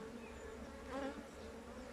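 Honeybees buzz in a steady, dense drone at an opened hive during spring hive care, close and continuous with a slight swell midway.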